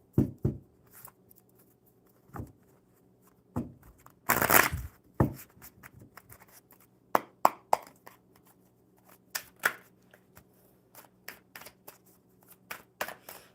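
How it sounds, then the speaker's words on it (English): Tarot cards are shuffled by hand in a series of irregular riffles and soft slaps, close and fairly quiet, with one longer rustling burst partway through and no talk. "All right, one more good shuffle."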